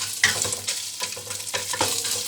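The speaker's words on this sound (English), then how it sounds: "You can hear some cooking sound. It's popping, and maybe we still need to stir them." A pot of popcorn on the stove gives a dense hiss broken by short sharp pops and stirring clatter, close and fairly loud, with no talking.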